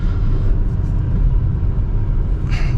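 A 2024 Audi Q5e on the move, heard from inside as a steady low road rumble and muted drivetrain hum, loud and constant, with a brief higher hiss near the end and no talking.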